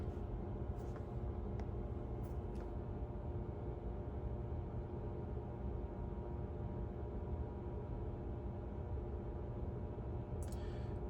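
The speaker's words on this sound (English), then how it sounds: "The car is running an external fan. The Supercharger is running a fan." Cooling fans on a Tesla and its Supercharger run steadily during charging, a constant faint whirring hum with no talk.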